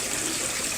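Water from a hose pouring into a private outdoor swimming pool, a steady broadband splashing rush that stays even and close throughout, with no voices.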